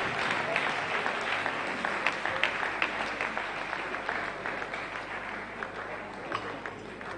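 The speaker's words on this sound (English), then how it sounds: "a big round of applause for the governor" Audience applause for a governor at a formal ceremony, a sustained, fairly distant roar of clapping from a large crowd with a low steady hum underneath.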